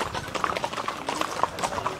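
Horses' hooves clip-clop in a quick, uneven rhythm as a cavalcade passes during a family celebration, fairly close, with faint voices in the background.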